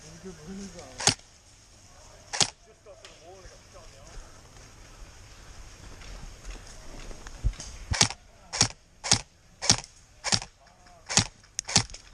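Airsoft gun shots during a skirmish game at an outdoor site: sharp snapping pops, two spaced out early, then a quick series of about nine fairly close shots, with voices faintly in the background.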